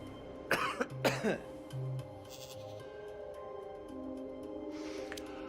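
Two quick coughs from a nearby man during a doctor's exam in the video game Hitman 2, short and throaty, over a low steady electronic hum.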